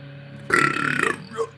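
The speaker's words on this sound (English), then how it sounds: "Sorry about the burping, that'll be the alcohol." A single close, drawn-out burp rumbles for about half a second from a man during a live piano stream, loud and alone after a quiet room, with a faint trailing sound.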